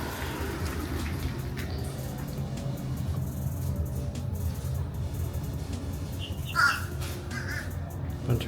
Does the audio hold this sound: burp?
no